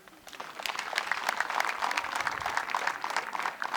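A crowd of villagers at an outdoor community meeting claps together, a dense patter of many hands that swells in and holds steady throughout.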